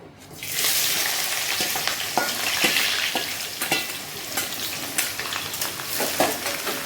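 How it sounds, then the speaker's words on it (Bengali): Sliced onions hit hot oil with a sudden loud burst of sizzling, then keep frying steadily while a spatula clacks and scrapes against the pan at intervals. "পেঁয়াজটা লাল করে ভেজে নিই।"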